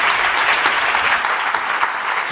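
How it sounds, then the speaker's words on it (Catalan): A conference audience applauds at an awards event, a dense, steady wash of clapping from a crowd in a hall that continues evenly throughout, with no voices over it. "Doncs fort aplaudiment per Pep Torres."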